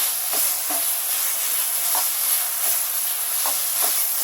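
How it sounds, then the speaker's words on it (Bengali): Chhana (cottage cheese) for sandesh is stirred in a pan over a steady hiss of heat. Soft, periodic scraping strokes repeat every second or so, close and quiet, with no voices. "এটাকে আমি 5 মিনিটের মধ্যে একটু নেড়ে চেড়ে নিচ্ছি।"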